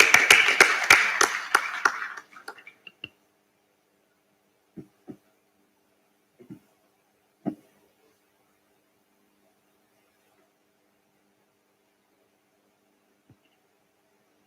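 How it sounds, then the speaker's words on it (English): An audience claps to welcome Suleiman Yusuf, CEO of Blue Camel Energy, at an affordable housing forum. A dense burst of applause lasts about two seconds and fades to silence, followed by a few scattered faint taps. "Let's clap for him as we welcome him."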